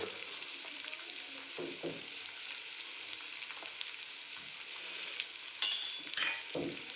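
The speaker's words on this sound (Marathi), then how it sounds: "बटाटे मिक्स करून घेऊया हळद" Boiled potatoes stirred with turmeric in a pan for aloo paratha, a soft quiet sizzle with spatula scrapes and a couple of sharper metallic clinks near the end.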